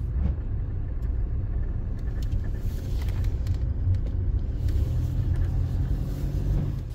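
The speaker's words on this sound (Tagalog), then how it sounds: "ang cause naman ng ingay na yan ay walang iba kung hindi itong hood stopper na to" A car at speed with a rattle from a loose hood stopper fills the cabin as a steady low road rumble and engine drone, with faint ticking and knocking noises near the dashboard.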